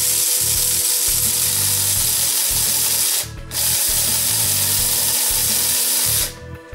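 An electric grinder grinds dried field corn into cornmeal, giving a loud, close, steady motor whine with rhythmic pulsing that stops briefly in the middle and again at the end.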